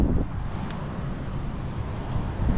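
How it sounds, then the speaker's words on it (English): Steady wind rushes and buffets a microphone outdoors in a cemetery, a low broadband roar with gentle gusts throughout and no voices. "Kind of windy up here."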